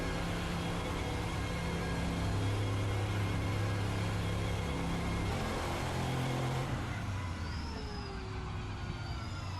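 The RSS GT-M Lux V8 GT race car in Assetto Corsa idles and revs, a steady loud engine drone with tonal harmonics that rise and shift near the end, no speech.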